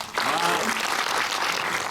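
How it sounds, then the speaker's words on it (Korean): A film festival audience at a Busan International Film Festival screening Q&A claps for the director, a dense burst of applause that starts abruptly and holds steady, with a brief voice heard at the start. "감독님한테 박수 한번 부탁드릴게요."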